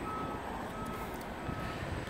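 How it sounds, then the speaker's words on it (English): The parking sensor on a Jaguar XF R-Sport automatic gives a steady electronic warning tone over a constant low background rumble, with no one talking. "this car has front and rear parking sensors"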